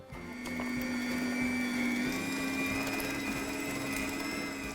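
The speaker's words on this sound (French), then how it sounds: "Étape 2, on passe au hachoir" An electric meat grinder minces cubed, boned Gers chicken thighs, giving a steady whirring motor drone with a constant tone throughout, moderately loud and with no talking.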